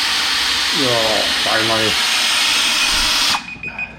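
A power drill with a mixing paddle churns tile mortar for a shower floor, a loud steady whine with two short pitch sweeps as the speed changes, then it stops abruptly near the end while a person speaks briefly.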